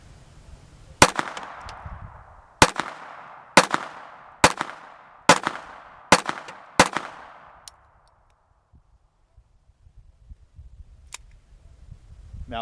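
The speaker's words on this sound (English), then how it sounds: "let's give it a couple shots" A Browning .22 semi-automatic pistol is fired outdoors from about 15 yards: seven sharp, loud cracks in an uneven rhythm, each with a short ringing tail, followed by several seconds of near silence.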